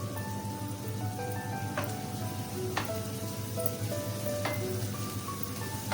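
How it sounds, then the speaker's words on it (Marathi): Onion frying in oil with ginger-garlic paste and three chopped green chillies, for Andhra-style prawns: a steady close sizzle throughout, with a few faint clinks of a spoon against the pan. "लालसर होईपर्यंत आपल्याला परतायचे कांदा."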